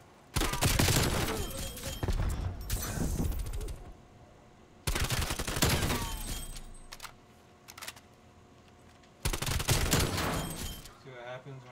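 Three bursts of AK rifle fire in Call of Duty Cold War search-and-destroy gameplay, rapid loud automatic volleys separated by short pauses, with faint game ambience between them.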